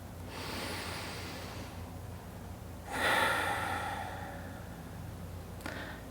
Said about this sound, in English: Taking a few deep inhales and exhales.